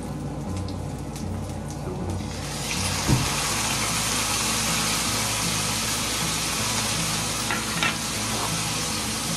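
Sardines and spinach sautéing in a pan, a steady broadband sizzle that swells louder after a few seconds and runs continuously with a few faint clicks, no talking.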